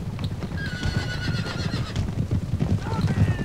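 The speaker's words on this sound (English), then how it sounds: "There is a Hussar unit charging in." Hussar cavalry charges in Napoleon Total War: galloping hooves drum continuously beneath loud, repeated horse neighs and whinnies, with a commentator talking over the din.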